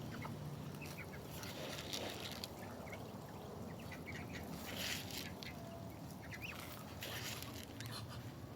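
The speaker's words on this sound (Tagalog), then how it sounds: "Meron tayong bibi." Ducks quacking among farmyard poultry, with repeated nasal calls and chattering over a busy background of pattering and other fowl, moderately close but somewhat faint overall.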